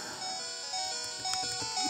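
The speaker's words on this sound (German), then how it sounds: "das Gepiepe geht mir auf den Keks" Electronic warning beeps for low health in the Game Boy game Pokémon Yellow repeat at a steady pace, mixed with bright chiptune music and no talking.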